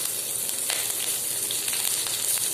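Garlic and curry leaves fry in hot oil with cumin and fenugreek seeds for a Tamil fenugreek curry, producing a close, steady, hissing sizzle with a few sharper crackles and no voices.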